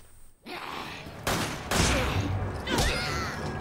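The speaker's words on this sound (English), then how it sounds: "Yeah, I'll use the pistol." Pistol gunfire in the Resident Evil 5 video game, several sharp shots spaced about half a second apart over continuous game noise, loud and close.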